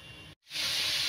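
Prawns coated with turmeric and salt hit a hot pan, a short hiss breaking off into a brief silence before a loud, steady sizzle takes over and holds.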